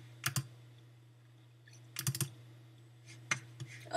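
Typing on a computer keyboard: short clustered bursts of sharp key clicks separated by pauses, close and fairly quiet over a steady electrical hum.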